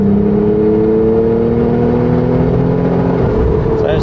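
A Renault Clio V6 hot hatch, its mid-mounted V6 behind the cabin, revs to about 4,000 RPM, a loud, steady engine drone holding a sustained pitch that eases off near the end.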